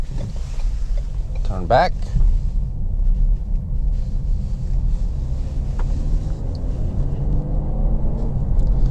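A car rolls along with a steady, loud low rumble from the cabin throughout, and a voice speaks briefly near the start.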